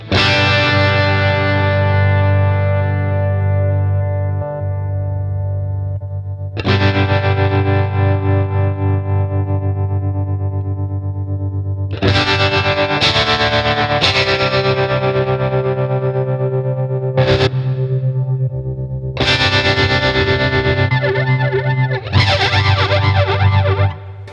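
Electric guitar played through a BOSS Katana 50 amp with effects, heavily distorted chords drenched in chorus and echo, several long sustained strums broken by short choppy hits, loud and close.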